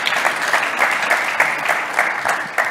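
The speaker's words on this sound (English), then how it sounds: "let's give her a round of applause for putting that together." Applause from a conference audience after a tech talk on edge workloads and service mesh, steady dense clapping of many hands throughout with a faint voice underneath.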